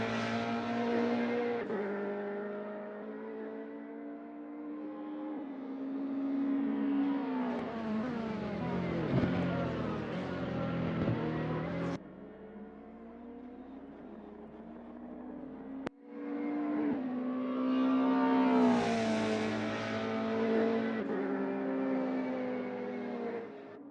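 Nissan and BMW race car engines in a sim racing touring car game, a loud sustained multi-engine roar that rises and falls through gear changes and revs, with abrupt cuts where the sound switches between cars.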